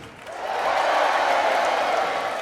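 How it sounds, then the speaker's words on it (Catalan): A comedy-show audience erupts in a loud, sustained crowd roar of shouting and whooping, building within half a second and holding steady throughout. "Només faltaria que ara cridéssiu."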